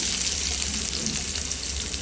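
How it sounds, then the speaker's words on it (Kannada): Mustard seeds, onion, peanuts and green chilli fry in hot oil for a tempering, giving a steady, close, even sizzle with no voices. "ಶೇಂಗಾ ಬೀಜ ಆ್ಯಂಡ್ ಗ್ರೀನ್ ಚಿಲ್ಲಿ ಇಷ್ಟು ಹಾಕ್ಕೊಂಡು ನೀಟಾಗಿ ಫ್ರೈ ಮಾಡ್ಕೊಳ್ಳಿ"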